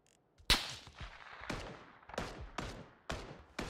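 Gunfire in PUBG: a loud close shot followed by a run of about six sharp reports at irregular intervals, each with a fading echo tail, no talk.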